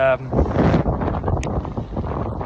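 Strong wind buffets the microphone in loud gusty rumbles on a coastal walking path in Wales, with a voice briefly heard at the start.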